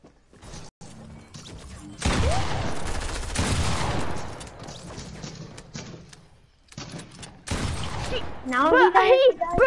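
Gunfire in an online shooter game: clusters of rapid shots and mechanical clatter in dense bursts, with quieter gaps, while a player talks excitedly over it.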